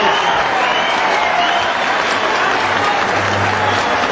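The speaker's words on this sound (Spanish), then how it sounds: "en medio de aplausos" Sustained, dense applause from a large crowd greeting Colombian President Samper, a steady loud wash of clapping throughout with no breaks.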